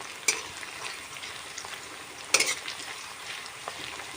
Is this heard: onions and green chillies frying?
yes